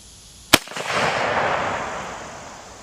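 A single loud rifle shot from a Romanian RH10 AK-pattern rifle cracks at close range during distance target shooting, then a long rolling echo fades out across the range.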